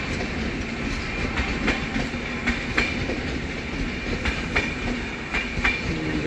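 The Avadh Express passenger train passes at speed, a loud, continuous rumble with regular clickety-clack wheel beats over rail joints, close by and steady throughout.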